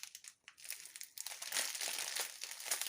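A plastic packet of diamond painting beads is torn and worked open, giving close, crinkly rustles and crackles in uneven bursts that grow denser toward the end.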